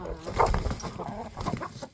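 Chickens cluck and squawk close by, several birds jostling possessively over food in a pen, with a busy, overlapping run of short calls.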